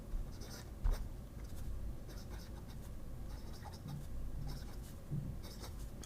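Aurora Optima fountain pen with a flex nib scratching steadily across paper, a soft continuous close-up scritch with a few brief louder strokes, no talking.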